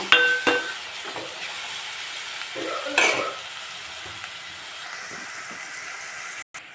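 Potatoes for potato kurma fry in a pan with a steady, close sizzle, broken by a few sharp scrapes and clatters of stirring near the start and middle.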